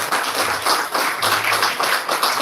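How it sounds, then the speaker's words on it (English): Applause from an audience at an evening event with a chief guest, a dense, steady wash of clapping filling the whole stretch with slight swells, fairly loud and without speech over it. "give a round of applause"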